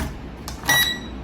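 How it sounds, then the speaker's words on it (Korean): A single short electronic beep from an SG906 Pro drone during compass calibration sounds briefly, thin and high-pitched, over faint background hum. "그러면 빕 사운드가 한번 떴죠."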